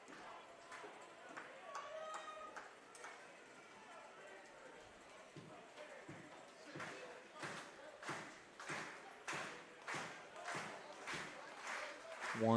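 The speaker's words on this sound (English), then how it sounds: "fans start to clap." Baseball fans clap in the stands at a summer double-header, a steady rhythmic patter of hands building from scattered claps into a regular beat, with crowd murmur and voices underneath.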